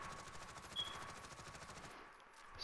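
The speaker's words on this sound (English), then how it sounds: "So what you want to do is just shoot at a wall and don't touch your right stick" Sustained rapid automatic fire from an MP5 submachine gun in a video game, sprayed at a wall, a steady fast rattle of shots running continuously and fairly faint before cutting off near the end.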